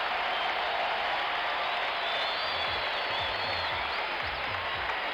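Arena crowd noise at a 1977 NBA Finals basketball game in Portland, Oregon, with the Trail Blazers leading the 76ers late: a dense, steady roar of cheering and clapping fills the space, continuous and loud throughout.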